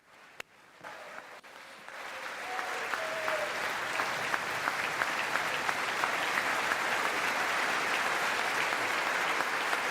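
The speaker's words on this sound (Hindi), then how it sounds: "तो तालियों की गिड़गिड़ाहट" A crowd of lawmakers breaks into applause for a speech by PM Modi in the US, building over the first couple of seconds, then continuing as steady, dense clapping, fairly close, with no talking.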